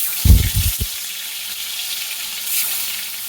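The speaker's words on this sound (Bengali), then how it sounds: "দেখো মাছ ভাজা" Pangas fish frying in hot oil gives off a steady, soft sizzle, opened by a few brief low thumps near the start.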